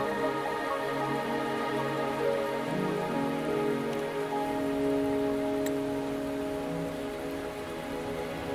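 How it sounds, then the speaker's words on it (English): Steady video-game rain patters continuously on surfaces, a soft even hiss running throughout with faint tonal hum beneath it and no voices. "Are you trapped here by the rain?"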